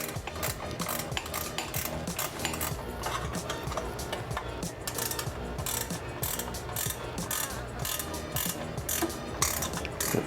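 A ratchet wrench cranks nuts tight while a battery box is installed on a Mega Moto 212 minibike, with steady rapid pawl clicking throughout at close range and no voices.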